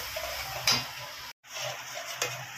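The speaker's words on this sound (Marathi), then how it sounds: "आता हा मसाला मस्त फ्राय करून घेऊया" Ground masala frying in oil and ghee gives a steady soft sizzle with a couple of sharp spoon scrapes against the pan and a brief silent gap midway.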